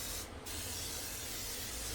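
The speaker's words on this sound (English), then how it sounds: "I'm going to go ahead and season this up with a little spray oil here." Oil sprayed from a can onto a hot propane gas griddle with two burners, a steady close hiss running through the whole stretch, with one short break in the upper hiss early on.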